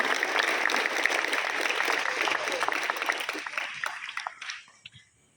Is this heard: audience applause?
yes